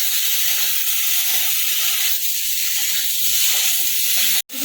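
Fish frying in a little oil in a pan over a low gas flame gives a steady, close sizzle and hiss that runs throughout, with a brief cut-out just before the end.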